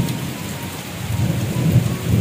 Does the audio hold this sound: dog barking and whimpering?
no